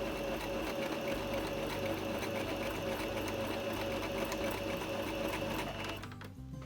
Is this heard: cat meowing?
no